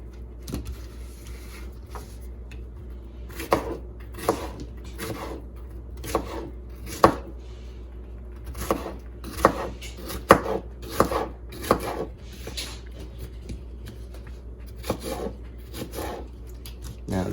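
A knife chopping watermelon rind into manageable chunks on a cutting board, a series of sharp, close knocks at an uneven rhythm with no talk.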